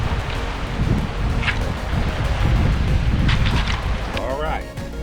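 The Buffalo River flows about ten feet from a campsite, a loud continuous rushing wash with gusty, wind-like texture that swells and eases slightly throughout.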